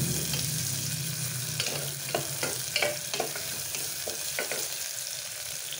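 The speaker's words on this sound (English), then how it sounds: "Fry this very well. You don't have to brown it." Food frying in a pan until translucent, not browned, giving a continuous close sizzle with light, intermittent stirring scrapes.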